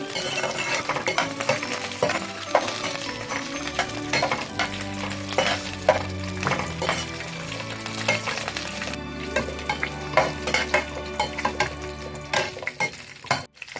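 Cashews and raisins frying in hot fat for paal payasam, a dense continuous sizzle crackling close up with scattered light clinks of a spoon stirring, no voices present.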